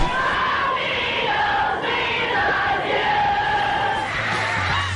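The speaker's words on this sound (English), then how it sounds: "Frenzied crowds greeted us everywhere." A frenzied crowd of fans screaming and yelling in a dense, continuous roar that stays loud throughout.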